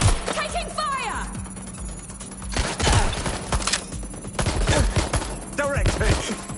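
Bursts of gunfire crackle through a Watch Dogs Legion firefight on PS5, rapid sharp shots in clusters mixed with game effects, and voices shout over the action.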